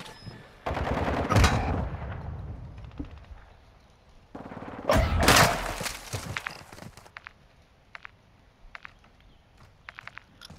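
Gunfire in a Call of Duty: Modern Warfare III match, with two loud bursts of automatic fire separated by a lull, then scattered single shots and clicks trailing off. No one speaks.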